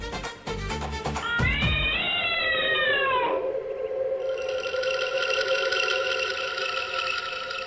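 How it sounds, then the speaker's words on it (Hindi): A drawn-out, wailing cat cry with rising and falling pitch, loud and close, followed by a sustained eerie tonal drone. "ये मनहूस सी कोई बिल्ली के रोने की आवाज"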